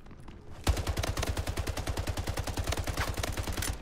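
Rapid automatic gunfire in the Splitgate shooter game rattles off in a steady, evenly spaced burst of loud shots lasting several seconds, starting abruptly after a brief quiet moment.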